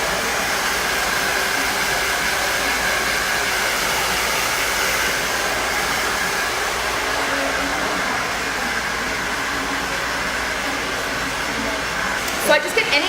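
A hair dryer blow-dries hair extensions, a loud, steady, continuous whoosh held close throughout, with brief clicks near the end.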